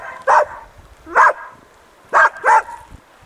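A water hunting dog on a fishing outing beside a freshly caught catfish gives four sharp, close barks: two spaced singly, then a quick pair near the end, with quiet outdoor background between them.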